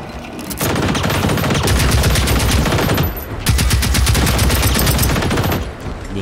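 Sustained loud automatic gunfire in the shooter game Generation Zero, rapid continuous bursts with a brief pause midway, then firing resumes, close and dominant with no talking.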